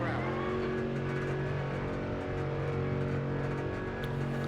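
An AMG GT4 race car in a racing video game runs along the pit lane at Imola, its engine a steady droning hum with a sustained tonal whine, held at constant speed and fairly loud throughout.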